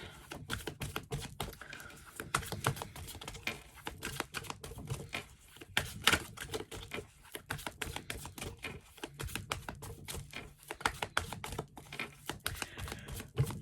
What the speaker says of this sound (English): so I'm gonna shuffle the card